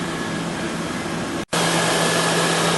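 A steady, loud engine drone with broadband noise from a car with a misfire runs continuously, briefly cutting out for an instant midway before resuming at the same level.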